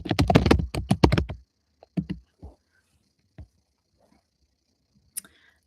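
Computer keyboard keys clicked in a quick run of typing while an email address is entered, then a few scattered, isolated keystrokes follow with pauses between, close and clear with no talk.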